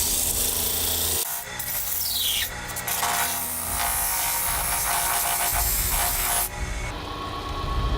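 Hand sanding wood with 120 grit sandpaper while making a clock: loud, close, continuous rasping strokes with a few brief pauses and shifts in pressure.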